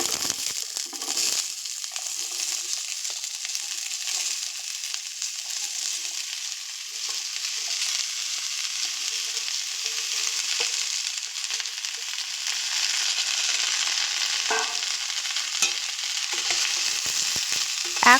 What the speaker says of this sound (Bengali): এখন আঁচটা একটু বাড়িয়ে রেখে পেঁয়াজ কলিগুলো তেলের সাথে ভালো করে মিশিয়ে নেব।